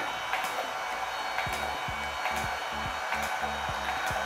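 A steady airy whir of a light-pulse hair removal device blowing, with faint rhythmic clicks pulsing through it, continuous and close, no voices.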